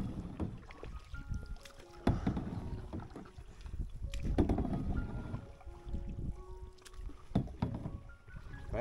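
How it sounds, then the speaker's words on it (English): Two people paddle a canoe on open water, their strokes making soft, uneven dips and splashes with light wind buffeting the microphone. The sound is fairly quiet and near. "We're both paddling at the same time."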